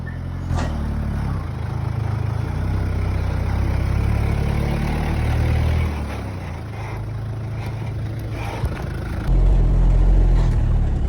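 A 4GG2-engined vehicle grinding slowly along a steep, muddy uphill road, a loud continuous engine rumble that shifts pitch and swells louder near the end, with no talk.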